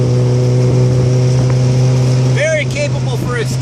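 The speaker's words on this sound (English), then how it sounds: "Hear that engine wailing." A vintage Austin Healey Sprite sports car engine drones at a steady pitch, then its note rises and wavers as it revs, with someone talking over it.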